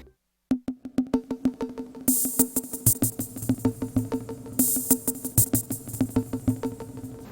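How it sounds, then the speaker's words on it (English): Korg Volca Beats drum beat of steady kicks and snappy hits, washed in reverb and delay from a mixer's FX unit, delayed repeats trailing each hit; bursts of bright noise swell in twice. "I add also some reverb and delay from the FX unit to make it sound like this"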